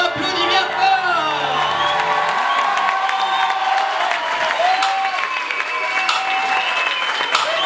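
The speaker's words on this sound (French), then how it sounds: "On applaudit bien fort." A crowd at a Eurovision-style contest show applauds and cheers loudly, with whoops and shouts rising over steady clapping, while high voices and music-like tones sound within the din.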